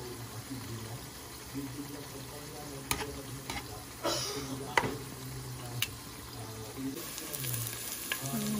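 Beef steak pieces sautéing in a hot pan for Filipino bistek, a steady sizzle with scattered stirring clatters and scrapes, close up and fairly loud, with no talking.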